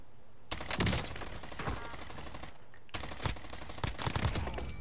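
Automatic gunfire in the battle game Warzone on Rebirth Island, two long, loud, close bursts of rapid full-auto shots separated by a short pause, with scattered extra shots.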